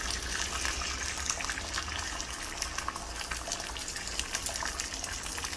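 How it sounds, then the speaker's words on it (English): Egg poured onto a very hot plate while cooking halal hotplate tofu: a steady hissing sizzle with crackling spatter, moderately loud and continuous throughout, no talk. "Going to pour in the egg."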